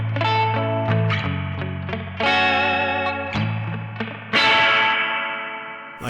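An electric guitar plays through a Danelectro Spring King Junior spring reverb pedal: loud, sustained chords and notes with a splashy, ringing reverb tail, and a sharp strike near the end that blooms and decays.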